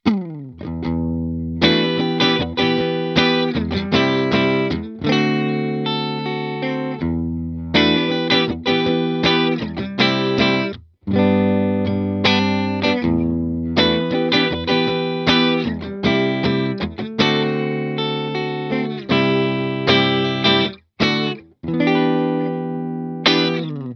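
An electric guitar plays through a Hughes and Kettner Spirit Nano amp head with the gain dialed back for a cleaner tone, strumming rhythmic chords with short pauses between phrases, prominent and alone.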